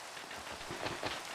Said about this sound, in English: Don't you just like the sound of the rain?